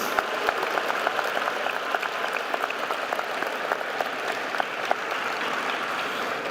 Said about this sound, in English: Can we please have a round of applause for the mothers and the grandmothers who are with us this evening?